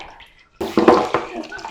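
A shower sprays water during an eight-month-old baby's bath, starting suddenly after a quiet moment and continuing as a close, splashing rush with uneven bursts.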